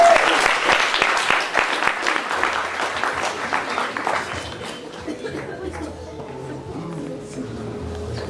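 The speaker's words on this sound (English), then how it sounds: "Please, some applause for Mr. James Warner." An audience at a SpeakeasyDC storytelling event in Washington, DC claps loudly and steadily, then the applause thins and fades as a voice begins speaking.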